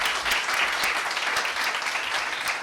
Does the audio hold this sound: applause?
yes